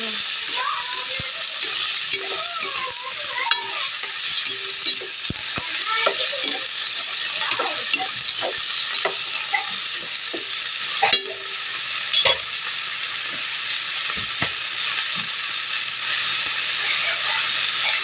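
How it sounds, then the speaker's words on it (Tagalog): Food sautés in a pan with a steady, loud sizzle throughout, broken by the scrape and clink of a utensil stirring, while a voice occasionally talks in the background. "Yan, nagisa ko na siya."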